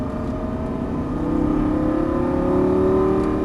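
Lamborghini Gallardo LP550 engine pulling steadily on a track as the throttle is squeezed, a continuous loud drone whose tone climbs gently with rising revs, close and alone without talk.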